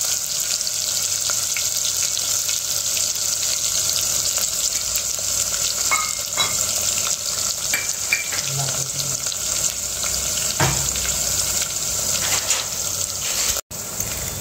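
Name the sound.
garlic cloves frying in oil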